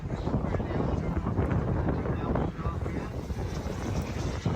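Turbine engines of large model aircraft run steadily at an airshow, a loud continuous roar with wind buffeting the microphone throughout, unbroken and fairly close.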